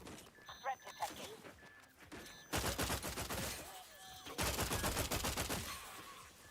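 Dense bursts of gunfire from a weapon in the video game The Outer Worlds 2, two loud sustained volleys of rapid shots after a quieter stretch with game voices and effects.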